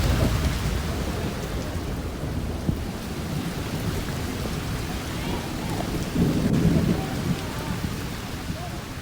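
An early rainy-season thunderstorm in Cuba: steady rain hissing on surfaces with low thunder rumbling throughout, swelling into a heavier roll near the end, no voices.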